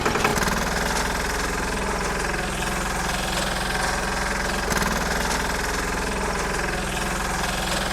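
A Bullet Sanedo mini tractor with a tractor-type hydraulic system runs steadily close by, its engine throbbing in a continuous, even chug for the whole stretch with one brief dip midway and no voices.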